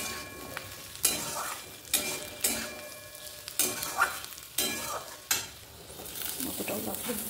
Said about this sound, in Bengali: আলুগুলোও দিয়ে দিলাম, পেঁয়াজটা একটু ভাজা ভাজা হয়ে গেছিলো।